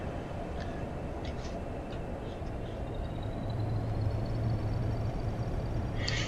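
Class 40 diesel locomotive in Train Sim 2021 running on the Settle to Appleby line, a steady low rumble and rolling noise that swells slightly, with a faint high whine creeping in toward the end.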